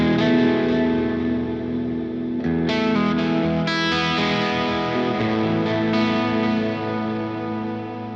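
An electric guitar plays sustained, shimmering ambient chords through an amp modeler, thick with effects that add distortion, chorus and echo, loud and continuous with no talking.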